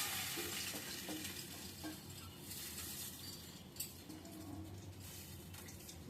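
Lentils go into a hot cooking pot with a faint, soft sizzle and quiet stirring and scraping, fairly distant and low throughout.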